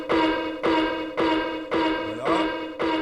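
An alarm sound effect from the Magix video editor: five loud tonal pulses repeating at an even pace of about half a second, each fading before the next, with a faint sliding tone partway through.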